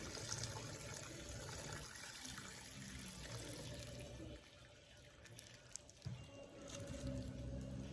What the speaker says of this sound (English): I am going to just strain this broth to catch any of the stuff we don't want in there.